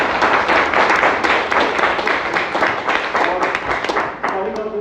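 Audience applause at a Toastmasters club meeting, honouring the Toastmaster of the day: dense, steady clapping from a roomful of people, loud and sustained for nearly five seconds and thinning slightly toward the end.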